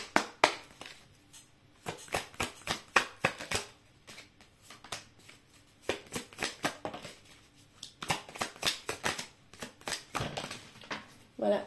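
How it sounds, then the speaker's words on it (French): Oracle cards are shuffled and drawn in crisp, rapid bursts of riffling and slapping, pausing briefly between rounds and close to the listener. "je vais tirer 3 cartes de l'oracle Lumière"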